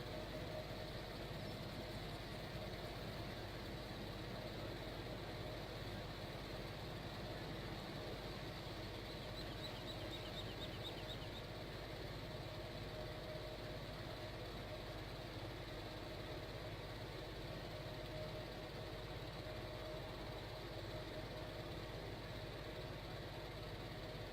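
Tractor engine idling steadily inside a car wash bay in the farming game Farming Simulator 17, a continuous low rumble with a faint higher whine, running alone without talk.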